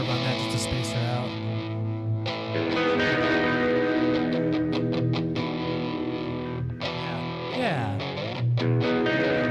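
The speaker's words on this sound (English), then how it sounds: "I'm gonna throw in a little reverb on that just to space her out." A distorted synth sound with reverb added plays on, its sustained tones and sharp bursts washing into a spacious, echoing tail throughout.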